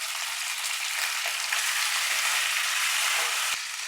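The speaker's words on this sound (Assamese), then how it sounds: "মাংসখিনি মই অলপমান দেৰি ভাজি লৈছো" Duck meat sizzles in hot oil with green chilies and curry leaves, a loud, continuous close-up hiss and crackle that barely changes, with a faint stirring scrape near the end.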